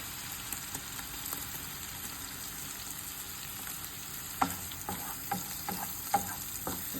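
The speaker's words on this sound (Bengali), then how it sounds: "মশলা কষানো হয়ে গেছে, আমি দিয়ে দিব চিংড়ি মাছ" Shrimp frying in spiced oil in a pan, a steady close sizzle with occasional light spoon scrapes and taps, no voices.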